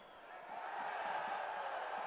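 A stadium crowd at a New Mexico United versus Fresno FC soccer match rises into a swelling, distant roar of cheering that builds and holds, fairly faint.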